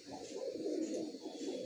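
Punjabi female pigeons coo in a home loft, a soft, low, continuous rolling murmur that stays steady and moderately close throughout, with no speech.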